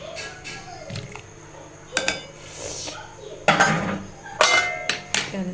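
A pot lid set over mutton korma on the stove, heard as a few sharp metallic clanks and clinks spread across the moment, moderately close with faint kitchen background between the hits.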